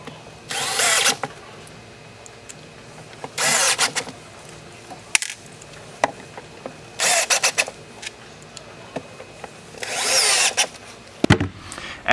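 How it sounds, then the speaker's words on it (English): Power drill driving screws into the four mounting holes of a battery box, four short loud whirring bursts separated by quiet pauses, with a faint clatter in between. "I'm going to install a screw into each of the 4 mounting holes."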